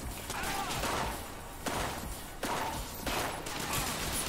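Rapid bursts of weapon fire from the video game Mindjack, repeating in a steady rhythm of loud, dense volleys with short gaps between them, close and harsh with no talk over them.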